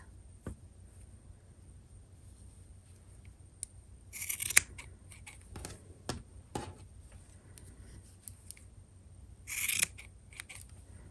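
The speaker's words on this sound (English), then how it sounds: "And maybe just trim this one a little bit more." Scissors snip threads on a tassel angel Christmas ornament in a few quiet, close, separate cuts with crisp metallic clicks, scattered irregularly against near silence.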